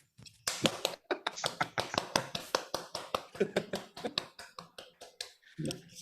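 A single person clapping at an evening stage event, a quick run of sharp, close claps that speeds and slows irregularly for several seconds before a brief voice at the end.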